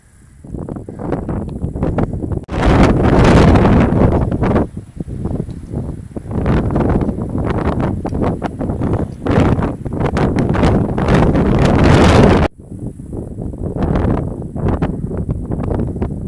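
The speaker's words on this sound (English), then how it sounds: "It's really windy up here, so I don't know if any of this is even going to pick up the audio anyway." Strong mountain wind buffets the microphone high on the Pacific Crest Trail, loud roaring gusts that rumble and blast in waves with brief lulls, filling the whole recording.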